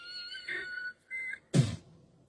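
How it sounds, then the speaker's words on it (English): High, bird-like tweeting whistles come in short phrases during a live onstage rock show, then a loud broadband burst cuts in. The tones are fairly faint and close, with pauses between phrases. "This is the sound of birds tweeting in Africa."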